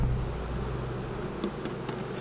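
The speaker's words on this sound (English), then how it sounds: "There's plenty of room in here, guys, for these bees to work." Honeybees buzz around an open beehive, a dense steady drone of many insects close by, with a few louder individual passes.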